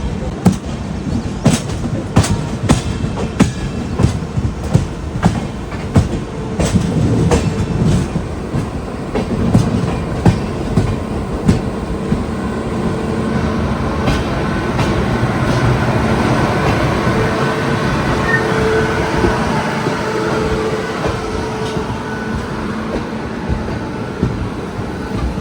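A Konkan Railway express, the Rishikesh–Trivandrum North train, rolls into Ratnagiri station during the monsoon, its wheels clattering rhythmically over rail joints, then settling into a smoother, steady rumble as it slows, loud and close, with no talking.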